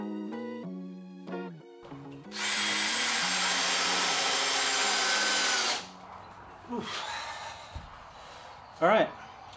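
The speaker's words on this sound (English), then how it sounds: "my daughter's running the vacuum while I'm trying to get a shot." A vacuum cleaner whirs loudly for several seconds in the room, starting and stopping abruptly, with tonal sounds before it and brief noises after.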